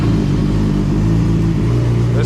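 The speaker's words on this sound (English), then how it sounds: "If I start the bike," A Yamaha R6 sport motorcycle under rebuild, engine running: a loud, close, steady idle with a low, pulsing growl throughout.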